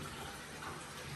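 Water pours steadily into a fish tank on a wheel dolly, a continuous broadband rush with no breaks, fairly quiet and alone throughout.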